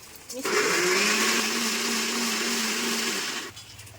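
Taro being ground into a paste in a mixer grinder, a steady whirring motor drone that starts abruptly, holds loud and close for about three seconds, then cuts off.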